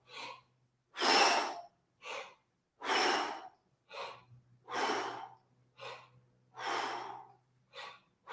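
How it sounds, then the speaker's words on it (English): Repeated forceful breaths during a squatting breathing exercise, about eight strong exhales and quicker inhales in a steady rhythm, close and clear against quiet. "exhale it out, and squat"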